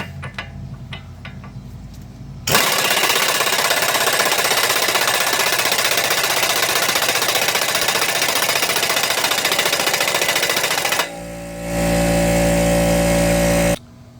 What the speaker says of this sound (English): we're going to get an impact over here and get this nut off of here